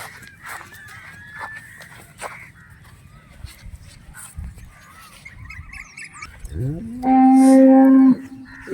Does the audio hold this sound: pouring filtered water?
no